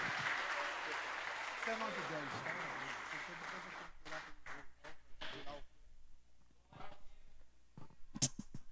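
A church congregation applauds during a Portuguese-language service, dense clapping mixed with voices at first, then thinning into scattered individual claps before fading out.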